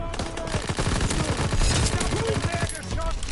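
Fast rapid-fire bursts from a quick-firing gun in a WWII video game, a dense rattling stream of shots with faint voices in the background.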